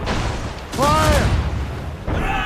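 Ship cannons firing in the naval combat of the video game Assassin's Creed Rogue, a broad booming blast that lands amid shouted voices, with a further burst of voices and noise toward the end.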